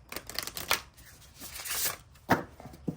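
A small tarot card deck is shuffled by hand in several short, uneven bursts of riffling and flicking cards, close up and crisp, with brief pauses between.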